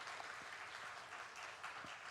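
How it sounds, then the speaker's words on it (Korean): Church congregation at a Sunday worship service applauding to welcome visitors, a steady, faint wash of many hands clapping together heard from a distance and continuing throughout, with no voices standing out. "우리 박수로 축하하게 환영하겠습니다"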